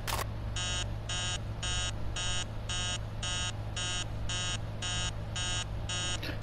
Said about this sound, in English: Dang alarm.